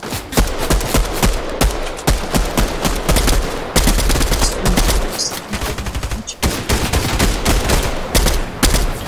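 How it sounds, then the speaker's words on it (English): Rapid video-game gunfire in Fortnite, dense bursts of automatic and single shots cracking almost continuously and loudly, with brief pauses, nothing else audible over it. "Who the fuck is shooting?"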